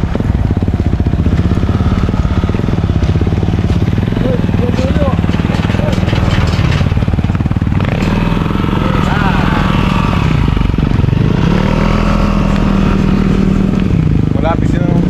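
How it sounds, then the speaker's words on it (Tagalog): A motorcycle engine drones loud and close throughout a ride near the Calabasa River in Gabaldon, Nueva Ecija, its pitch rising and falling with speed while wind buffets the microphone and a voice talks over it. "sasakay tayo sa motor siyempre"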